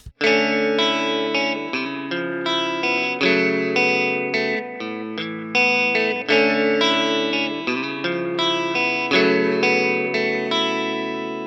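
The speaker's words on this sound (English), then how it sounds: "A delay pedal lets you add echoes to your guitar sound" A guitar running through a delay pedal on a budget J-Rock pedalboard, its picked chords and notes trailing echoes that repeat rhythmically. The sound is close, loud and continuous, with no talking.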